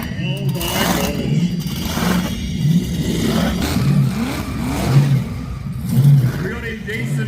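Car engines idle and blip their throttles as they line up at a motorfest, a deep lumpy rumble with repeated revs swelling under loud talk nearby.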